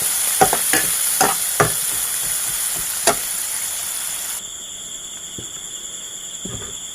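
Onion and green chillies fry in hot oil in a kadai with a bright continuous sizzle and repeated spatula scrapes, the sizzle dropping abruptly quieter partway through, then a few more stirring knocks; nobody talks.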